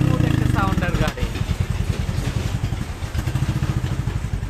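A Royal Enfield Classic 350 cc motorcycle idling nearby, a heavy, even thumping beat that runs throughout, with a person talking over it at the start.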